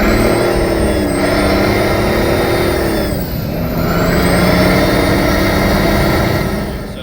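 A car pulls away from a dead stop in fourth gear with a steady, loud engine drone that rises slowly and holds throughout, a slight dip midway before the strain resumes, with no talk.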